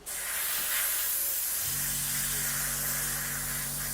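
Air compressor hissing steadily and loudly, joined partway through by a low motor hum as it cuts in, with no one talking.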